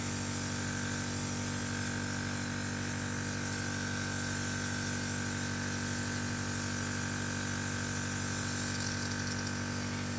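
A Luminess airbrush sprays makeup with a steady, dense hiss and low mechanical hum from the compressor, running continuously and close without pause or talk.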